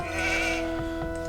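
Sheep bleat in the strategy game Age of Empires II, a single wavering bleat followed by softer calls over a low steady game background, with no talk.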